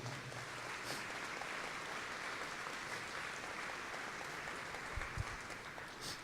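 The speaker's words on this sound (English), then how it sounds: "Can we give them a round of applause, please?" Applause at a ribbon cutting for a city aquatic center rises as a soft, distant, steady patter of many hands, fairly faint and continuous with a few louder knocks near the end.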